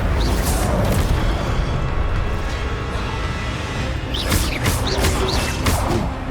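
The Incendio fire spell is cast during combat in the Hogwarts Legacy video game, bringing loud, dense roaring blasts and whooshes with sharp chirping effects layered on top, continuous throughout.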